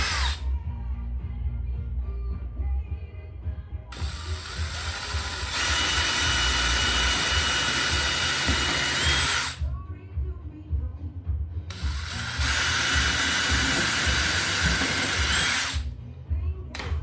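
A power drill runs loud and close in two long bursts of several seconds each while installing bumper add-ons on a Mk III Toyota Supra, with whirring mechanical noise between and no talking.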